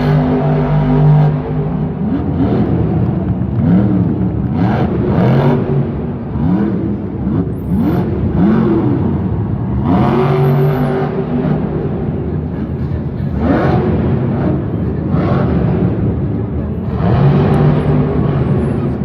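A Monster Jam monster truck at an arena event in Lyon, France, 2018, spins donuts as its engine revs loud and close, surging and falling again and again in a continuous roar over a rumbling arena background.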